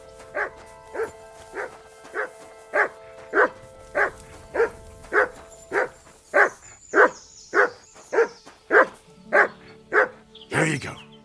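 Regular dog barks in Kingdom Come: Deliverance II, about seventeen evenly spaced woofs over game music, loud and close, ending in a brief rustle.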